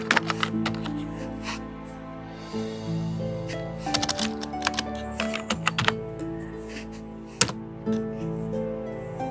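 Someone types on a computer keyboard, entering a search for a notepad program: a burst of close, sharp key clicks in quick irregular runs, with pauses between words and a louder final keystroke.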